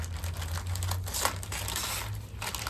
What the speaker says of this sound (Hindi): इसको अनबॉक्स कर लेते हैं, देखते हैं अंदर इसके अंदर हमें क्या क्या मिलता है।